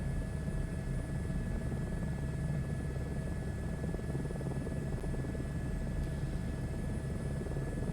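An Airbus H125 helicopter in flight in Microsoft Flight Simulator, a steady, even rotor and turbine drone with a faint high whine, constant and unbroken throughout.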